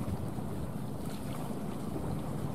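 A Ben Tre trawler boat eases slowly in to moor, heard as a steady broadband rumble of engine and water washed with wind noise, constant and close throughout.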